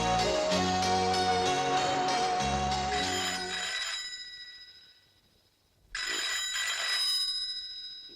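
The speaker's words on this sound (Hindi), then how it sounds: "रात का किसका फोन है?" A bright electronic telephone ringtone plays a looping melody, fades out, then rings again loudly after a short pause.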